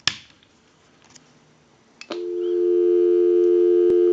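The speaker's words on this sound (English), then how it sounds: "Go ahead and give you some dial tone." A Harris TS22A lineman's test set picks up the line: a few clicks, then a steady, loud continuous dial tone starts about halfway through and holds to the end.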